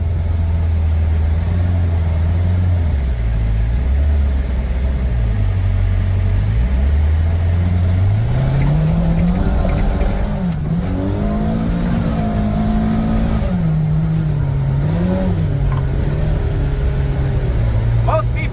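A Kawasaki RIDGE off-road vehicle engine idles low, then revs up and holds at higher pitch, rising and dipping, loud and close.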